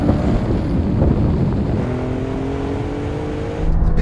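Three performance cars, a BMW M4 with DCT gearbox, an Audi RS5 and an Alfa Romeo Giulia Quadrifoglio, launching together in a kick-down drag race, engines roaring loudly and steadily under hard acceleration with rising tones and no talk.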